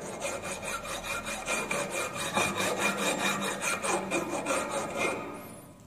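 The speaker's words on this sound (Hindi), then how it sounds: "60 डिग्री से अधिक कोण वाला कॉर्नर को रेतने के लिए हम ट्रायंगुलर फाइल का प्रयोग करते हैं।" A triangular file rasps across a metal corner in a quick, steady rhythm of back-and-forth strokes, close and alone.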